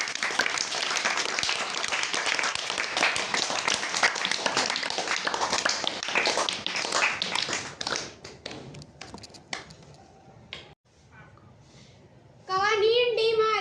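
Hands clapping from an audience at a school STEAM competition poetry recital, dense and sustained for several seconds before thinning to a few stray claps, then a voice begins speaking.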